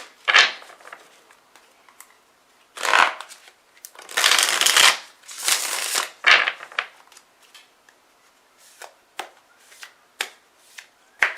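A small deck of oracle cards being shuffled by hand, coming in several separate riffling bursts with short quiet gaps between, close and moderately loud.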